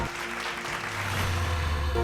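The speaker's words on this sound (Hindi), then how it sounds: "जोरदार तालियों के साथ स्वागत कीजिए दीपक दिलदार जी के लिए।" Audience applause welcoming actor Deepak Dildar at the Zee Media Bhojpuri Samman 2026 awards ceremony, a steady wash of clapping over a low sustained tone that swells slightly toward the end.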